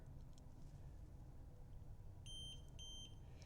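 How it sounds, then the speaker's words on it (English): A Fisker Ocean's EVault fingerprint lock gives a crisp electronic double beep, two short high tones close together, sounding over a quiet low background hum. "Now you heard that double beep."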